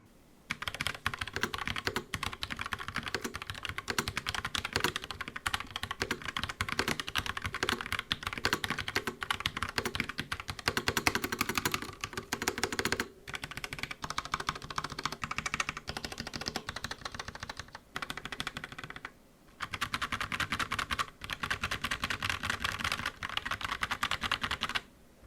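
Steady typing on a Logitech POP Keys mechanical keyboard, a 75% layout board, with dense continuous key clicks and brief pauses, fairly quiet and close with no talking.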